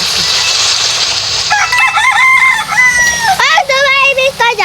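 A rooster crows in a Roblox water park game, a loud, close cock-a-doodle-doo in two drawn-out calls over faint background noise.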